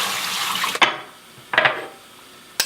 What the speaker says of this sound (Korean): 잠시 쉴 틈도 없이 또 설거지를 시작합니다